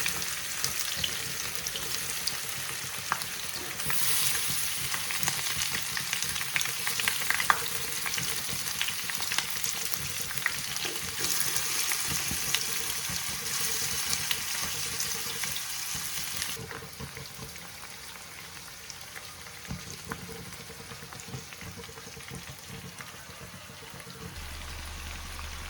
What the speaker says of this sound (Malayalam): ഇനി മീൻ ഇതിലേക്ക് ഇടാം. ഇതിനെ ചെറു തീയിൽ വേണം വറുത്തെടുക്കാൻ.